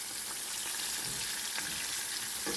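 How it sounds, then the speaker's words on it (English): Green tomato slices frying in hot oil make a steady, close crackling sizzle with scattered pops, and no talking. "I'm going to let them fry for about 2 or 3 minutes on each side"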